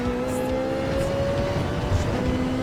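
A Ferrari 458 race car engine drones at sustained high revs around Spa in Gran Turismo 7, a steady loud tonal whine held with the throttle up and no break.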